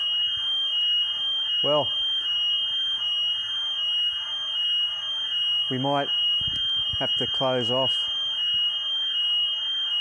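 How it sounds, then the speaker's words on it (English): Steady loud alarm tone sounds through the whole stretch during an online business webcast, with a voice speaking over it in a few short bursts. "Our alarm's gone off."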